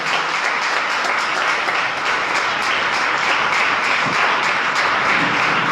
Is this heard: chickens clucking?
no